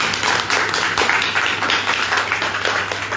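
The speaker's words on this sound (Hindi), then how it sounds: "वकील साहब के लिए पर ताली बजाइए, शुरुआती साथी हैं ये।" An audience at a business gathering claps for an early associate, a dense, bright burst of applause that runs steadily for about three seconds, fairly close and loud with no talking over it.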